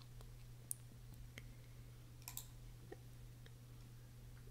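Sharp mouse clicks while selecting a checkbox and pressing a merge button in lead-management software, a few faint, isolated clicks over a steady low electrical hum.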